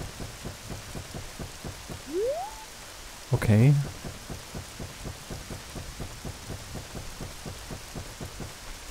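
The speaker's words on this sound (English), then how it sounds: "Oh, it's raining here." Steady rain falls in The Legend of Zelda: Ocarina of Time, a constant hiss under a repeating thumping game beat, broken by a brief rising chime and a louder game effect, with a short spoken word over it.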